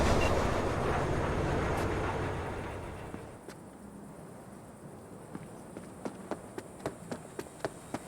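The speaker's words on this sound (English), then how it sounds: "the train's leaving" Train pulling out of a station in Cyberpunk 2077, a steady loud rumble and rush that fades away after a few seconds, leaving a quiet scene with a series of sharp, evenly spaced clacks or footsteps.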